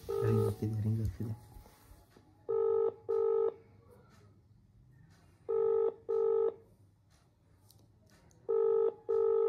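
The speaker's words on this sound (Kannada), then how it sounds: "ರಿಂಗ್ ಆಗ್ತಿದೆ." An outgoing phone call rings through, three pairs of double ring tones evenly spaced, loud and close, after a brief burst of keypad-like tones at the start.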